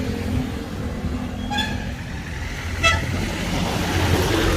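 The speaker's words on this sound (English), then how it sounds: "Cars are passing." On a provincial road near Mayon volcano in the Philippines, two short car-horn toots sound a little way off, separated by a pause, over a steady low rumble of passing traffic.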